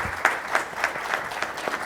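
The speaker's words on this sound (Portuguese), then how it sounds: "O pessoal já te aplaudiu na primeira." Audience applause at a panel session of an agribusiness future forum, steady clapping from a crowd filling the room, moderately loud with no voices over it.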